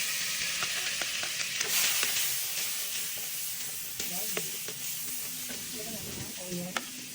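Garlic sizzles in hot oil while it is stirred for pork binagoongan with pineapple. The frying hiss is steady and close, with scraping stir strokes and clinks throughout.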